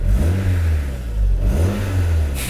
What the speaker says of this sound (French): Tu veux que je te mette 2-3 coups de gaz?